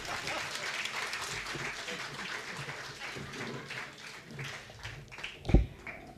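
An audience at a theatre award ceremony applauds, a moderate, steady clapping with crowd murmur that swells into a brief louder burst near the end, while a speaker talks over it.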